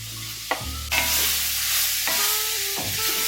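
Peppers and onions sizzle and hiss in a hot pot for seafood gumbo, with a loud steady fry that swells as the vegetables go in, over a low hum and a few clanks of a stirring spoon.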